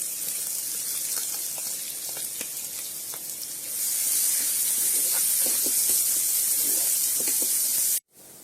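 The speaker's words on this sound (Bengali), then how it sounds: "এলাচ আর গোটা জিরে এরপরে দিয়ে দেবো কুচনো পেঁয়াজ" Chopped onion frying in hot oil with dried chilli, cardamom and whole cumin, a loud steady hissing sizzle with small pops that swells louder midway, heard alone without talk.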